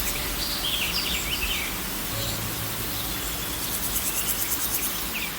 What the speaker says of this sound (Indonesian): Mendengar kicauan berbagai jenis burung yang terbang dari ranting ke ranting